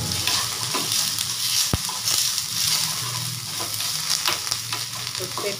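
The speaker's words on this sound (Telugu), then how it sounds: "కొద్దిసేపు వేగనివ్వాలి." Ginger-garlic paste and curry leaves frying in a pan give a continuous close sizzle, with a sharp clink near the start and soft stirring scrapes, no voices.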